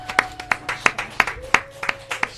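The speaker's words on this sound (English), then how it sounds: "It deserves that applause." Sparse, sharp handclaps from a small audience after a live music performance on a local TV show, about a dozen evenly spaced claps over a faint sustained tone.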